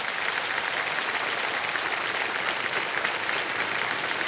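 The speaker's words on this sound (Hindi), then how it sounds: "तो एक बार फिर जोरदार तालियां बज जाए स्नेहा जी के लिए" A studio audience at a television quiz show claps loudly and continuously, a dense, even roar of applause with no voices over it.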